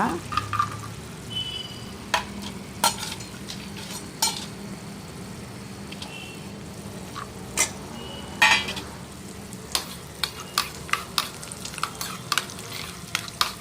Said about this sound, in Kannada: ಒಂದು ಸ್ಪೂನಷ್ಟು ಗೋಡಂಬಿ ಫ್ರೈ ಮಾಡ್ಕೊಳ್ಳೋಣ ಇವಾಗ ಬ್ರೌನ್ ಕಲರ್ ಬರೋವರೆಗೂ ಫ್ರೈ ಮಾಡೋಣ